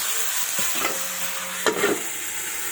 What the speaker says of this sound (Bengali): এবার এটাকে ভালোভাবে নেড়ে চেড়ে ঢাকা দিয়ে দিব।